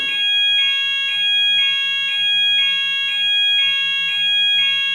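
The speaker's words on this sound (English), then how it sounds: "That was the Partey alarm, by the way." An electronic alarm beeps loudly in a steady repeating pattern of tones, about two pulses per second, continuing throughout with no talking.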